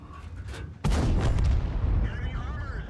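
Object 140 tank firing its main gun in World of Tanks: one heavy, booming blast that holds a long rumbling tail, preceded by fainter thuds, with a brief whistling ring near the end.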